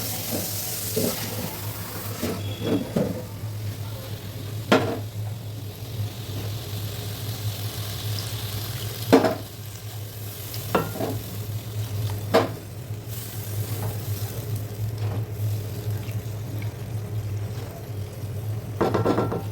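Pieces of rohu fish cook with thankuni leaves in a pan, giving a low steady sizzle and hum broken by scattered clicks and scrapes of stirring, with no talk.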